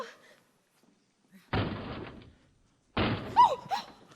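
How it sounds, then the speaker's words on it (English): Two heavy thuds ring out on a high school theatre stage during The Wizard of Oz as a door is forced open, each blow loud and separated by silence, with a brief voice after the second. "back while I break the door open."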